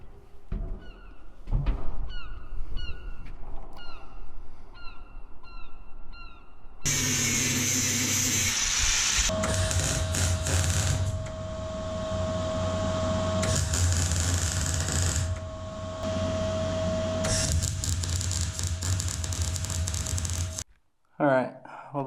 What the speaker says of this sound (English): I just got to grind up these joints to clean them up for welding.